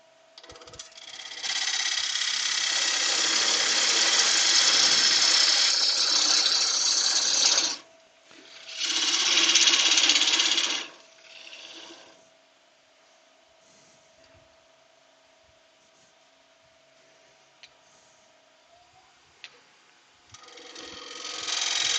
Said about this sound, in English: So let's try the bigger gouge.